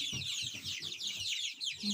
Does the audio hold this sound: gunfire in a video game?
no